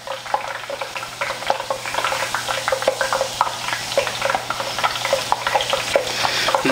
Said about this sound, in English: make sure you stir these around, because otherwise they can stick together and then they won't cook evenly and properly